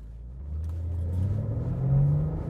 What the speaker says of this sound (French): J'appuie sur l'accélérateur.